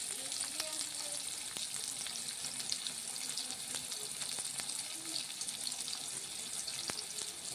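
Onions sautéing in a pan for an ivy gourd stir-fry give off a bright, continuous sizzle, with a few clicks of stirring scattered through and no talk over it.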